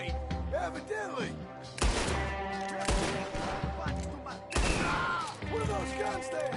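Volleys of rapid gunfire crack in a video game battle, with sharp bursts arriving in clusters over a background musical score. Voices speak briefly between the shots.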